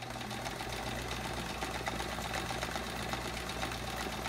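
Sewing machine running steadily through free-motion quilting stitches, stitching text along a baseline on a chevron quilt; a continuous close, even mechanical whir with a fast regular needle rhythm and no pauses.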